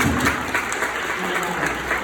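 An audience at a corporate volunteer day applauds a team member, a short, even stretch of steady clapping from a room full of people.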